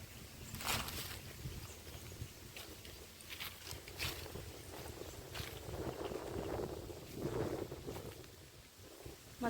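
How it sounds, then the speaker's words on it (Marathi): Wind gusts rushing through mango trees over a farm field, steady broadband buffeting with irregular surges and microphone rumble, close and fairly loud, with no one talking. "हवा एकदम मस्त छान सुटली आहे."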